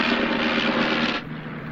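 Steady, loud drone of a vintage piston-engined aeroplane in flight during a 1950s flight-training scene, a broad continuous roar that drops slightly in level near the end.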